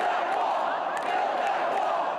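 A crowd of Trump supporters at a Minnesota rally cheering and shouting, a steady dense roar from a large gathering heard at a distance.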